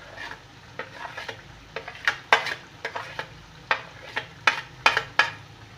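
Spices frying for chicken karahi with chilli, turmeric and salt, a low sizzle broken by a steady series of sharp scraping stirs and metallic clinks against the pan, roughly two per second.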